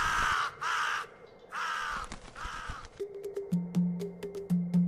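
A crow caws repeatedly in an animated African village tale, several harsh, close calls in quick succession, followed by a low steady tone.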